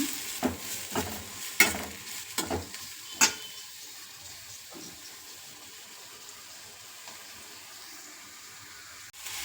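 Onions frying in a little oil, several sharp clatters and scrapes early on, then a quiet steady sizzle that carries on faintly with a final knock at the end.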